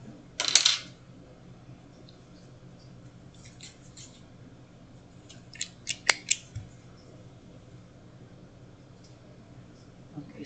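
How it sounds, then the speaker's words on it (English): Scissors snip through a piece of fabric for sewing: a crisp cut near the start, then a quick run of several close, sharp snips a few seconds later, with quiet room tone between. "Let me cut that in half."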